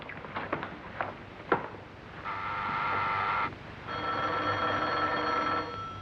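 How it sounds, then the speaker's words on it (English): A telephone bell rings in two long, loud bursts separated by a short pause, following a few knocks and thumps in a quiet room. "Phone's ringing."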